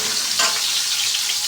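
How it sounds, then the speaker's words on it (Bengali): Carrots sizzle in hot oil with cloves, cinnamon and cardamom, a dense, steady frying hiss up close with a brief stir near the start. "গাজরটা এখন ভালো মতন করে ভাজা ভাজা করে নেব।"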